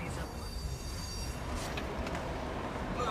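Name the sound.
train passing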